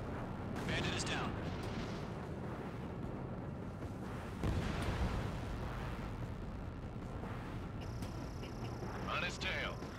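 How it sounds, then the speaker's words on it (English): A harbor comes under heavy fire in the Ace Combat flight game, with dense rumbling explosions and artillery bursts rolling continuously under radio chatter and a constant engine drone. "The harbor is under heavy fire!"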